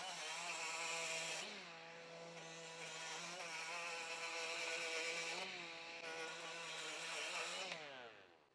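A Hyper Tough 12 volt die grinder runs steadily on rust, a loud high-pitched motor whine that holds for several seconds, dips in pitch as it is pressed into the metal and then rises again, close and without talk.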